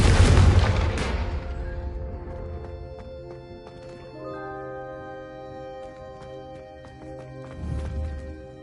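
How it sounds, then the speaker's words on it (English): A Confringo fire spell cast in the Hogwarts Legacy video game bursts as a loud, booming explosion right at the start, then rumbles and fades beneath layered game music and effects, with a smaller whooshing burst near the end. "a Confringo cast travels a bit farther than that of a spell like Incendio"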